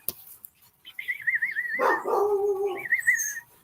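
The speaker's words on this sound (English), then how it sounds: "I'm outside, so the dog might be barking." A dog yelps and whines in drawn-out, wavering cries, with a short burst of barking in the middle, fairly close and loud outdoors.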